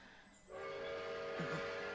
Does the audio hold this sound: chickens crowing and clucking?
no